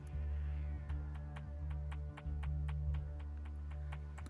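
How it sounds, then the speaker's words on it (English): A faint cat meow from the VR game Lego Bricktales rises over a steady low electronic hum with regular ticking, like game audio playing quietly. "maybe there are meowing sound effects to drive that point home"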